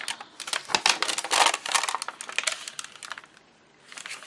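A paper envelope being cut open, bursts of dry crisp crackling and slicing close up, with short pauses between cuts and no talking.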